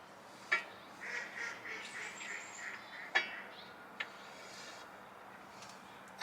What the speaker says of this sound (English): I always love when the ducks laugh.